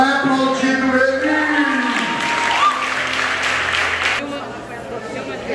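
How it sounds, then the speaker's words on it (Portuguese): A crowd claps steadily at a church worship service while voices talk and sing over it, the applause building in the middle and easing off toward the end. "Vai aplaudindo ele."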